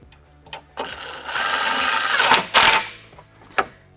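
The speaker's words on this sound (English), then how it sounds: "we're just going to thread that in there and tighten it up with an impact" An impact wrench drives a factory 10mm bolt, giving a loud close burst of rapid hammering that lasts over a second and is followed by a couple of short sharp bursts and clicks.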